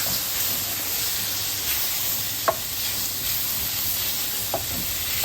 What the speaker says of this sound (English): I'm just going to cook this flour in the fat.